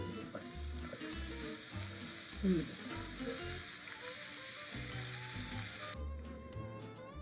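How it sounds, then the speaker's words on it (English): Pesto being stirred into gnocchi sizzling in a skillet, a steady crackling fry under low background hum, with occasional soft scrapes of stirring and a brief bump midway. "Time to add pesto. Give it a stir."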